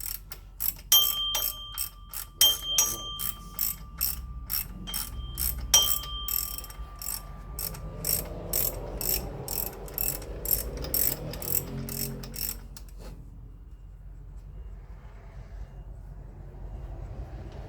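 A short ratchet working under the hood of a Toyota 4.7 V8 (2UZ) gives a fast, steady run of sharp clicks, close and loud, that slows and stops, followed by quieter handling noise.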